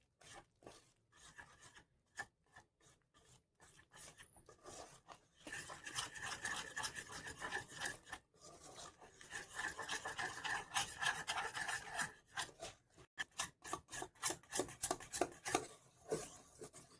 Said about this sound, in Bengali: এবারে সব কিছু ভালো করে মিশিয়ে নেব।